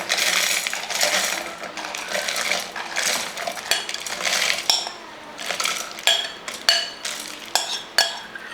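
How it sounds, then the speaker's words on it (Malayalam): Dry coriander seeds and dried chillies tumble into a mixer jar with a hard, rattling clatter of small pieces hitting the container, followed by a few separate sharp clinks near the end. "ഈ ജാറിൻ്റെ അകത്തോട്ട് ഈ മല്ലിയും മുളകും എല്ലാം കൂടെ അങ്ങോട്ട് ഇട്ട് കൊടുക്കുക."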